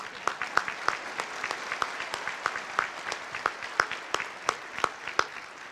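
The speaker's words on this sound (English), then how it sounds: "Let's go ahead and clap." Steady applause from a crowd at a high school Veterans Day ceremony, many hands clapping with a few sharper individual claps standing out, continuous for several seconds.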